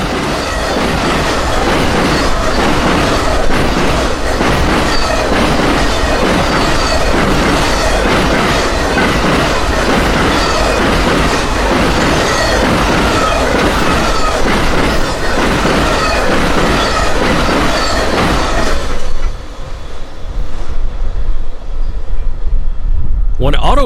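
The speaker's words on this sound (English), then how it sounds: "When Auto Train passed" An Auto Train passenger train on the Florida A Line rumbles past loudly with steady clickety-clack from the wheels, then quickly fades away, leaving quieter background noise.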